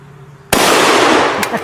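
Rifle shot striking bowling pins hung up as targets, one sharp loud blast followed by a sustained noisy wash, with a fainter knock near the end.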